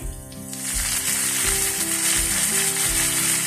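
Sliced shallots, dried red chillies and curry leaves sizzle steadily in hot oil for an Onam pachadi tempering, a loud, continuous frying hiss with no voices.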